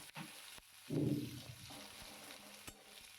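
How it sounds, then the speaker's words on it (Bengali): Two onions fry in a hot pan with steady sizzling and crackling, a louder burst of frying near the start settling into a continuous hiss. "এবার ভালো করে ভাজা করে নেব"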